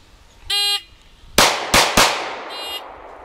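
Three sharp pistol shots from a Smith & Wesson M&P Shield fire in quick succession, loud and close, bracketed by short electronic beeps from a shot timer before and after the string.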